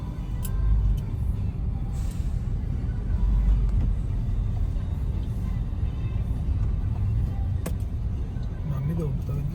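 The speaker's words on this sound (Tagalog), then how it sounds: "Nakabot nga tayo ng traffic sa Bukawi." Road traffic in Bocaue, Bulacan, a steady low rumble of car, bus and truck engines with occasional air brake hisses, heard continuously at close to moderate distance in a busy street, with people talking over it.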